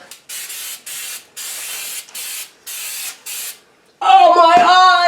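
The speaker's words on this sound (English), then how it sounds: "So let's go ahead and spray a little bit more on that." A can of Flex Seal aerosol spray sealant sprays onto a car fender well in a series of short hissing bursts separated by brief pauses, then a person's voice cuts in loudly.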